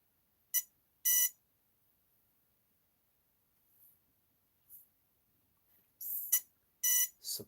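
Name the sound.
electronic beeps from RC device with 3S battery pack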